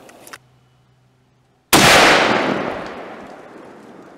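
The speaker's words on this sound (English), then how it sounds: "We're going to shoot it through the chronograph, see what it gets." A single loud rifle shot of a 45-70 Hornady LeverEvolution 325-grain FTX load, fired outdoors through a chronograph, with a sharp crack followed by a long decaying rumble after a brief silence.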